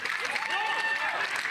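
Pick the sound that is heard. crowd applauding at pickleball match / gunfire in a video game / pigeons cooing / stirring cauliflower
crowd applauding at pickleball match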